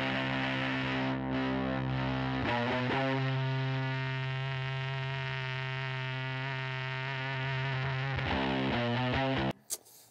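A harsh, buzzing fuzz-distorted guitar through a plasma fuzz pedal with a xenon tube drones loudly, its sustained chords gritty and insect-like, changing pitch a few times before cutting off.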